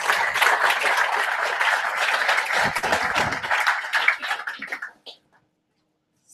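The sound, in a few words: audience applause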